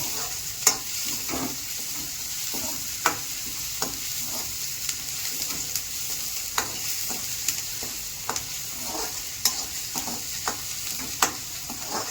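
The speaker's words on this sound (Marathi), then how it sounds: "आता कांदा टाकून घेऊ आपण त्यात. कांदा टाकून घेतलाय. परतून घ्यायचं त्याला चांगलं." Onion sautéing in a pan, with a steady soft sizzle under repeated sharp taps and scrapes of a spoon stirring it, close and with no talking.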